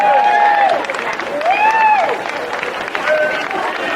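Applause from an outdoor festival audience at Cologne's longest-table street event greets mayor Elfi Schorn-Werpes as she comes on stage. Steady, fairly loud clapping and crowd noise continue throughout, with some whistles and cheers rising above it.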